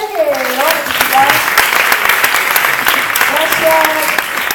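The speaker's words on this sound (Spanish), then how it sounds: "Un fuerte aplauso para ella que lo va a necesitar" An improv theatre audience gives a volunteer a loud, steady round of applause, close and continuous, with a voice talking over the clapping at the start and again near the end.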